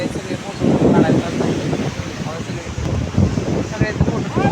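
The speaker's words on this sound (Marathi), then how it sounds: "वारले सुटले तुम्हाला आवाज येतोय" Wind at Alibaug beach buffets the microphone in heavy, uneven rumbling gusts that continue throughout, with possible sea sounds underneath.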